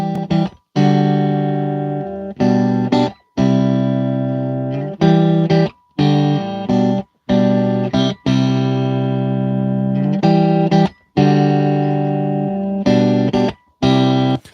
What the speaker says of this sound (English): The stomp is based on the Klon Centaur. The amp is based on the Marshall JMP 50 watt.